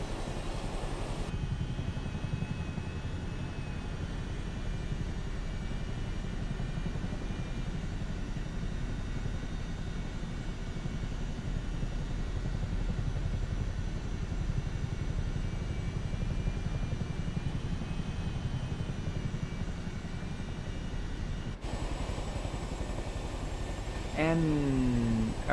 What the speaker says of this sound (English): But yeah, the Boeing 737,